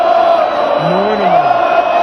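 Football stadium crowd roaring and chanting in a loud, sustained wall of voices, with a few rising shouts standing out near the middle.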